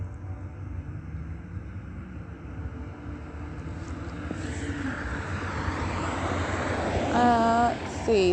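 An airplane passes overhead along a residential street, its engine drone swelling steadily louder over several seconds against wind rumble, while a brief voice sounds near the end.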